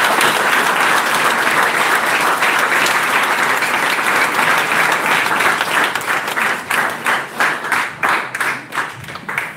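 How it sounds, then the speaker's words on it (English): A debate audience at a Law Day event applauds both teams, loud sustained clapping from many hands that thins toward the end into a few distinct, rhythmic claps. "give both teams a big round of applause"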